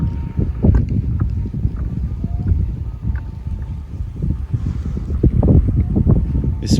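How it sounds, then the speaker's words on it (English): Gusting wind buffets the microphone at a lakeside camp in Vermont, making a low, fluttering roar that rises and falls unevenly. Faint higher calls sit far in the background, and nobody speaks. "This wind just keeps picking up"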